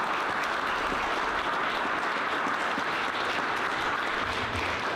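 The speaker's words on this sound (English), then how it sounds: "Can you give everybody another round of applause?" Applause at a school board of education meeting forms a continuous, full-room wash of clapping that stays steady and even throughout at moderate volume.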